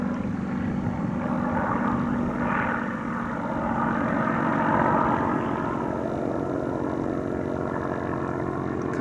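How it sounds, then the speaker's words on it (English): Old propeller bombers drone overhead at an outdoor air display, a steady distant engine rumble that swells slightly and fades, heard from the ground with no talking. "Couple of old bombers."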